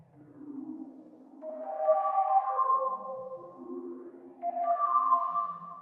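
Swirling synth arpeggio tones glide and overlap, washed in reverb, phaser and LFO-driven sweeping filter movement, rising to brighter swells and fading back down. No voices.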